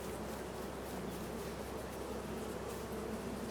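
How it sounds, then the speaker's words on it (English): Bees from a beehive in Farming Simulator 22 give a steady, dense, continuous buzzing drone that fills the background evenly throughout. "We've got all the bees coming out now."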